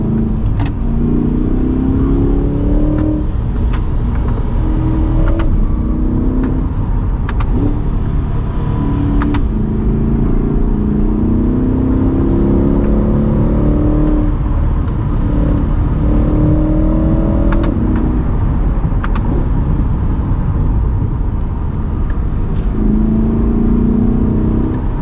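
Chevrolet Corvette C8 engine pulls hard through a run of road bends, a loud steady drone rising and falling with repeated throttle surges and gear changes, close and continuous with no voices.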